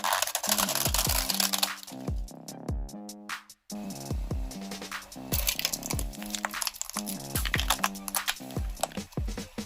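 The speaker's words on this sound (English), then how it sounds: "I put a police toy car under the wheels." Car wheels roll over a police toy car and crush it, a run of close crunching, cracking and crackling bursts with short pauses between them. No one speaks.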